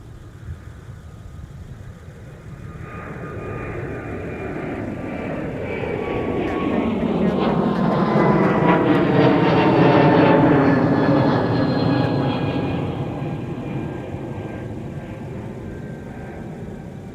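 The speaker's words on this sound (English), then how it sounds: "runway 30 right, clear for takeoff." An airliner takes off from runway 30 right at Minneapolis–Saint Paul airport, its engine roar swelling steadily to a loud peak midway, then slowly easing as it climbs away, with no talk.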